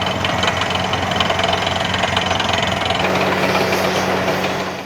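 A well drilling rig's engine runs on raw off-grid homestead land, a loud, steady, close mechanical drone with a knocking vibration, its tone shifting slightly partway through.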